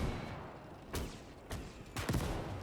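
Mortar rounds landing close in the WWII game Gates of Hell, three distinct muffled thuds over a low rumbling battlefield backdrop, fairly quiet overall.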